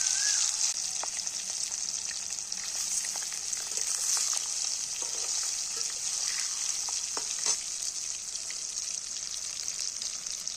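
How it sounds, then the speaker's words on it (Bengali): Mango pieces frying in oil in a wok with five-spice tempering for pickle, a steady close sizzle with scattered spatula scrapes and crackles throughout. "আমগুলো তেলের সঙ্গে ভালো করে ভেজে নেওয়া হচ্ছে"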